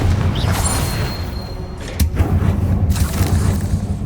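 A Confringo fire blast spell cast in Hogwarts Legacy lands as a loud booming burst about midway, with a rumbling crackle trailing after it over continuous game ambience.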